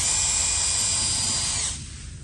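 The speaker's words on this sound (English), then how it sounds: "We're changing to second gear." A 1/12-scale RC model of the 1940 Porsche Type 92 prototype whines with a high, steady electric motor pitch close by, then winds down and fades toward the end.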